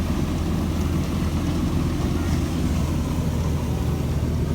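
A tractor running slowly at a wheat threshing site, a steady low rumbling engine drone that holds constant throughout, near and fairly loud with no speech over it.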